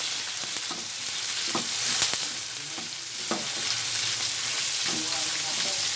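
Grilled pork sautés in a hot pan with a steady sizzle, broken by repeated utensil scrapes and stirring taps, moderately loud and with no voices.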